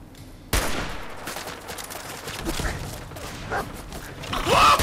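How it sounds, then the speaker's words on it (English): Gunfire in Fallout 4 starts with a sudden loud shot after a short quiet stretch. A dense, sustained volley of shots and blasts follows, with rising intensity at the end. "Let's try to shoot him."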